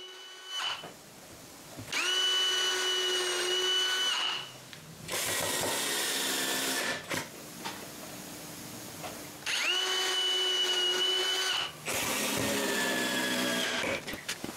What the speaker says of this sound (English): I mark where the screws will be and drill the holes